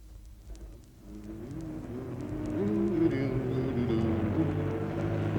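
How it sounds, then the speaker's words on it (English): A truck grinds along a rough outback track in Arnhem Land, its low engine drone building and growing louder with faint rattles over the bumpy ground, no voices. "we get back to my truck and keep plugging down to Tarranboy"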